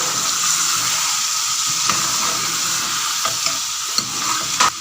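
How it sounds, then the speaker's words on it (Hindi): Turnip and meat curry (shaljam gosht) sizzles steadily in the pan as it is stirred, with a constant frying hiss and occasional soft scrapes and clinks of the spoon. "गरम मसाला पाउडर डालेंगे।"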